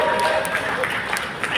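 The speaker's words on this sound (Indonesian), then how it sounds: "Tepuk tangannya dong buat Sir Dendi." Crowd applause at Synchronize Fest 2024, a dense, steady wash of clapping from a large audience filling the whole moment, with a loud voice over it.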